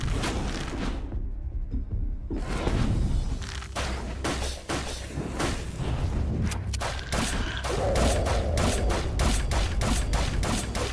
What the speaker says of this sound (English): I'll swap immediately to shotgun and shoot two rounds.